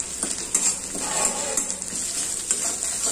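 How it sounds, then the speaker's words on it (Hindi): Moong dal tempering with ginger and cumin sizzles steadily in hot oil, a loud bright hiss with occasional stirring clinks and scrapes, close by and without talk. "तो मैं इसको छौंक लगा लूंगी दोस्तों"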